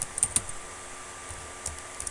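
Computer keyboard typing, a few sharp clicks clustered near the start and scattered later, fairly faint and close, with no one speaking over the keystrokes.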